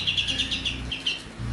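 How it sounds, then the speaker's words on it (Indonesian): Cucak jungkok songbird chirping in a rapid, bright series of repeated tweets, close and clear over a low steady background hum, with a short pause before the notes resume. "jungkok masteran saya yang mempunyai banyak isian seperti cililin, gereja, kapas tembak"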